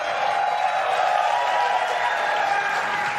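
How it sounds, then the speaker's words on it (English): A crowd at SpaceX Mission Control in Hawthorne applauds during a Starship test launch, sustained dense clapping with some cheering, heard from a distance. "They're applauding."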